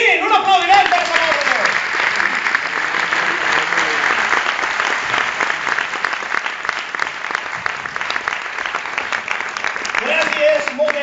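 An audience claps steadily for a singer at a live comedy-circus show, a dense, loud wash of applause lasting the whole stretch, with a voice speaking over it at the start and again near the end.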